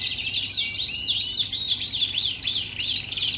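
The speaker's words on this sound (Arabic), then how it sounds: "وهاي قراية الطير قدامكم" A Super Shirazi canary in Baghdad sings continuously and close up, with rapid high trills and chirps repeating over a faint low background hum.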